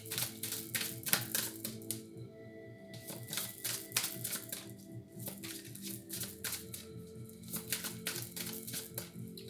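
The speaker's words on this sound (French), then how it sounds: "je vais tirer toutes les cartes" Oracle cards being shuffled and drawn during a reading, giving quick papery flicks and riffling bursts in uneven clusters. The sound is close and fairly quiet, with short pauses and no talking.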